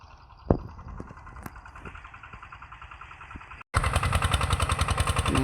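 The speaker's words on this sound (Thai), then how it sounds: "รถเพิ่นกำลังมาถึงอาจจะใส่รถซิ่งนี่เนาะ" A farm truck, a rot sing, draws near at a cassava harvest, its engine chugging in a rhythmic idle with a few sharp knocks, then suddenly much louder and closer with a strong pulsing beat.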